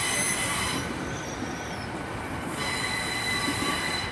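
Great Western Railway train at Swindon station on the Great Western Main Line, running steadily and loud throughout with a continuous rumble and high metallic wheel squeal, no voices.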